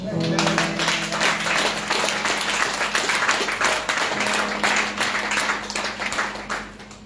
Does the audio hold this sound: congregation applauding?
yes